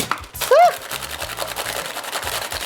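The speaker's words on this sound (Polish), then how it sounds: "Przykładasz go do tarki, imbir, cytryna i trzesz." Ginger and lemon are rubbed across a kitchen grater covered with baking paper, giving quick repeated rasping strokes close by, with a brief voice faintly in the background.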